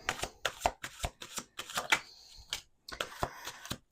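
Tarot cards being shuffled in quick, crisp riffling bursts, repeated in a steady rhythm with short pauses, close and fairly quiet.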